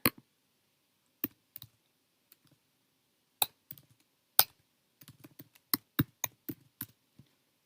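Typing on a computer keyboard while a search is entered, sparse close key clicks arriving singly and in quick clusters against near silence, with no voices.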